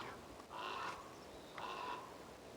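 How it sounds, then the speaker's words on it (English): Two harsh, drawn-out crow caws about a second apart, moderately close against a quiet outdoor background. "And there's a crow crowing at me."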